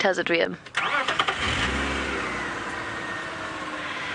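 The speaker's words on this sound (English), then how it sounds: "I might have to turn the engine on." A safari vehicle's engine cranks and catches, then revs and settles into a steady running drone while someone speaks briefly over the start.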